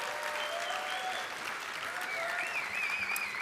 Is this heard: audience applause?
yes